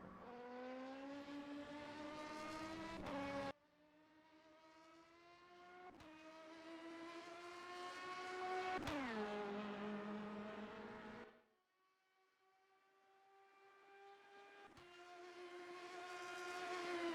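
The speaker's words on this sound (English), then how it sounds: "And making his way down to Mulsanne corner, over the hump now, is the number 10 car, 328 kilometers an hour." A race car from a Le Mans racing game screams down the Mulsanne straight at about 328 km/h, its engine revving in long rising pulls broken by sharp gear shifts and a brief lift before climbing again, with no voices.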